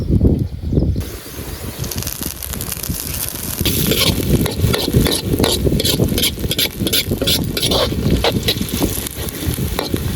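Ginger paste and finely chopped green chillies are added to a frying pan in an outdoor village kitchen and stirred, giving a steady close sizzle with scraping stirs throughout after a quieter first second.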